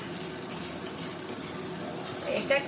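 Spices and food are stirred and sautéed in a pan with a quiet, steady sizzle, broken by light scraping and occasional metallic clinks of a spoon against the pan.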